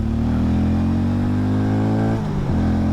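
A 2024 Hero Mavrick 440 motorcycle engine climbs steadily in pitch under acceleration, loud and close, with a brief dip and recovery near the end as the rider shifts gear.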